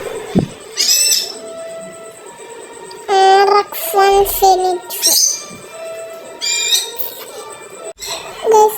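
A pet bird calls repeatedly with sharp, high chirps and squawks in bursts close by, scattered through the clip with some background noise.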